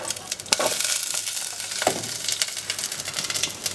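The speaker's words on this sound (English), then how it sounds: "we're going to start by sweating our shallots in a little bit of coconut oil" Shallots sweat in a little coconut oil in a pan, giving a steady, close sizzle with crackling bursts and the occasional stir or scrape of a utensil, with no talking over it.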